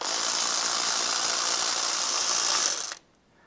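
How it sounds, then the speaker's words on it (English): A ratchet loosening 18 mm motor mount bolts on a one-ton Jeep ZJ, a rapid continuous clicking whir held for about three seconds before stopping abruptly, close and without talk. "I need to take 4 bolts off to release that motor mount in its entirety"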